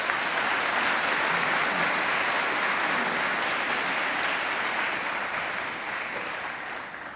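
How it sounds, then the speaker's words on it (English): A graduation ceremony audience at Macquarie claps in a sustained round of applause for Andrew: thick, even crowd clapping that holds steady for several seconds and tapers only slightly toward the end. "I think Andrew deserves another great round of applause"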